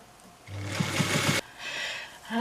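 A sewing machine stitches an oven mitt in one steady whirring run of about a second, fairly close and clear, then stops abruptly.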